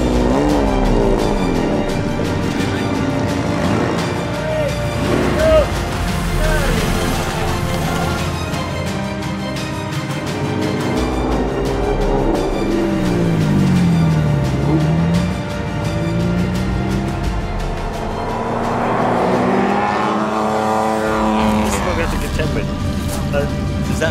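Mini cars race in the Mini Miglia in Scotland, their engines revving and rising and falling in pitch as they accelerate and shift, loud and continuous, with someone talking over the engine noise.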